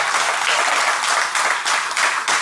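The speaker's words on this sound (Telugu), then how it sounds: "కొంచెం పైకి లేవమ్మా, చప్పట్లు కొట్టండి ఒకసారి." Applause from a crowd at a devotional discourse on Varahi Devi, a short burst of steady clapping in loud pulsing waves.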